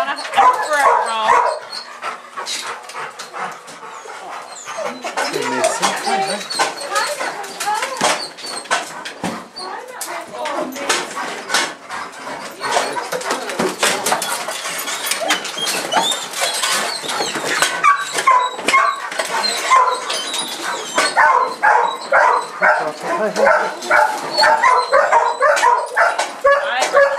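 Chesapeake Bay retrievers bark, yip and whimper continuously in shelter kennels, a loud, echoing chorus of many dogs with overlapping barks throughout.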